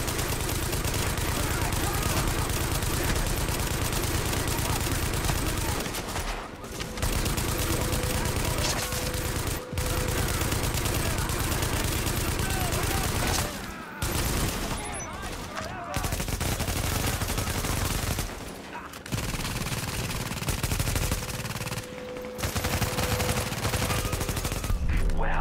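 Sustained automatic gunfire during a firefight in the video game The Division, dense continuous bursts with only short pauses, loud and close, with voices talking over it.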